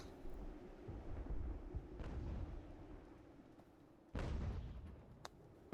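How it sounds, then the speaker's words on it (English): Cannon fire in the battle game Ultimate General: American Revolution comes as distant booming blasts, a few separate explosions with rumbling tails over quiet battlefield ambience, with one heavier boom near the end. "And they are firing cannon at me."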